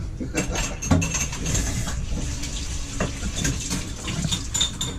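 Running water rinsing the dusty outside of a wine bottle, a steady splashing and trickling with a few clinks of glass, close by and without talk.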